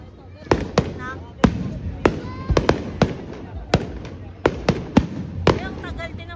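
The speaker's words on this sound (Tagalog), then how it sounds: "Ay, ang tagal din ng fireworks nila ha." New Year fireworks bursting in a rapid, irregular series of sharp loud cracks and pops, some close and some farther off, with voices chattering in between.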